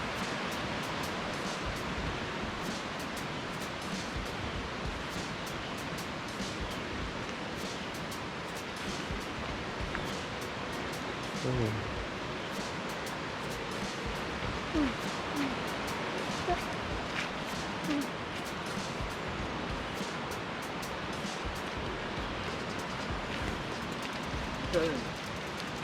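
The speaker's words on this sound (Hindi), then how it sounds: "ये देखो नीचे से पानी जा रहा है ना, ये देखो आवाज़ आ रही होगी" A mountain stream in the Great Smoky Mountains National Park, water running downhill with a steady broadband rush heard from close by, constant and moderately faint, with small splashes scattered through.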